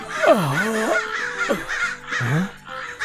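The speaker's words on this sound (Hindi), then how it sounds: "तभी अचानक कौवों की काव काव से उसकी नींद टूट जाती है।" Crows caw in a cartoon sound effect: several loud, harsh, swooping calls in quick succession, close and clear with no other sounds.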